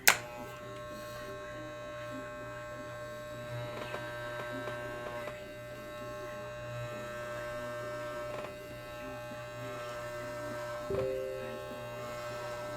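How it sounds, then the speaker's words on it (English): Electric clippers shaving the fur of a fursuit head give a faint, steady buzzing hum throughout, with occasional small clicks and handling knocks nearby. "So I'm gonna only shave this about halfway, and then go from there."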